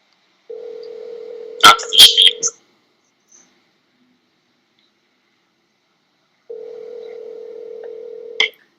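A telephone call is placed during a live sports preview broadcast: a steady ringback tone sounds twice with a long silent gap between, and clicks and short beeps cut across the first ring.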